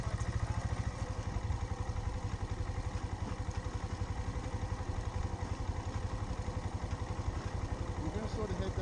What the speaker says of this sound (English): Go ahead and roll on the throttle a little bit to help give it some work.